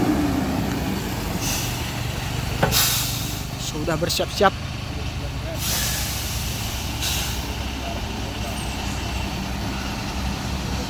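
A crane truck readies to tow a crude palm oil tanker truck that went into a ravine, its diesel engine idling steadily with sharp air brake hisses and clanks partway through, while someone speaks briefly nearby.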